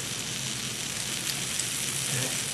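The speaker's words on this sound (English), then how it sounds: "You hear that sizzle?" Steady, dense sizzling of sweetbreads on a hot electric grill, a constant crackling hiss close up with no voices.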